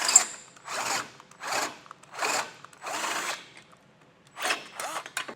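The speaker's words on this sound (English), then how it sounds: "as we drill this out" A power drill whirs in repeated short bursts, enlarging a hole in a 2013 Mini Clubman for base plate hardware, about six pulses with brief pauses between, close and moderately loud.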